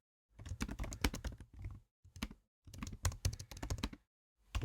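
Someone types a message on a computer keyboard in quick, close clattering bursts of keystrokes, separated by short silent pauses.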